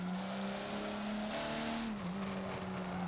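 Race car engine in Forza, heard on the Indy GP classic track, holding a steady loud drone that climbs slightly in pitch, then dips briefly before settling, with faint tire noise.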